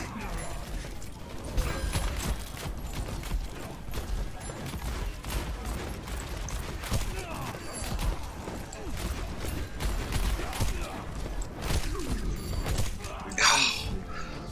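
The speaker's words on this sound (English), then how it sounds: "So many bombs and so many volleys." Bombs and volleys of fire in a video game, a long stream of rapid sharp cracks and crashing impacts piling over one another, busy and loud throughout, with a voice talking underneath.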